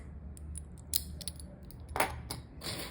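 A one-metre metal chain bag strap with two snap hooks is set down and handled nearby: a quick run of bright metallic clinks and jingles, a louder rattling clatter near the middle and another at the end, over quiet room hum.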